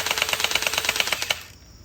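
Moukelo M416 gel blaster firing a rapid full-auto burst of about a dozen sharp, evenly spaced snapping shots, close and loud, then stopping abruptly into quiet.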